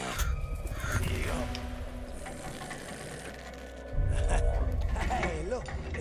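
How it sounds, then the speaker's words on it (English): Crows caw in Middle-earth: Shadow of Mordor, a few rough calls heard over rumbling game ambience and a low swell of noise partway through, with a voice speaking at moments. "These birds are feeding plenty well as it is."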